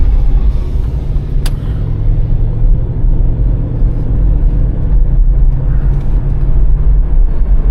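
A 1984 Cadillac Seville accelerates gently on the road at around 50 mph, a loud steady low engine rumble with road and wind noise inside the cabin, no talking.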